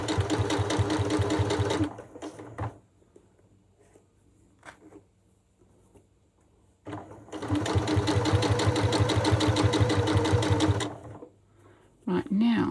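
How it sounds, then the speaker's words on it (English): A sewing machine stitches a zippered cushion made from a quilt block or panel, whirring in two long steady runs separated by a quiet pause, with a brief restart at the end. "now we stitch downwards using the seam guide, taking the pins out as we get close to them"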